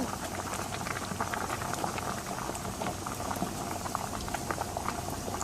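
Rice bubbles in a pot of boiling water, with lemon juice added, while being cooked for squid biryani. A dense, steady bubbling and popping carries on throughout at moderate loudness.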